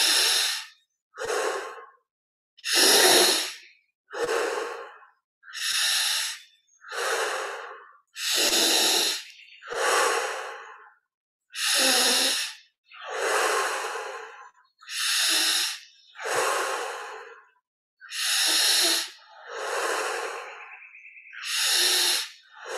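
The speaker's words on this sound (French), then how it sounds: "Inspire par le nez, expire par la bouche." Slow, deep breaths drawn in through the nose and released through the mouth, repeating in a calm, even rhythm of about a dozen close, clear inhales and exhales with no talking.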